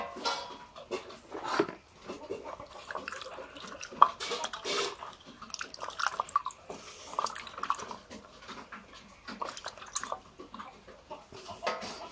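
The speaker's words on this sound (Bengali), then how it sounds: "এই যে ডিমগুলো ধুয়ে নিচ্ছি।" Tap water splashes and trickles as freshly laid hen's eggs are washed by hand in a home kitchen, a soft, close, uneven patter with small knocks and handling noises.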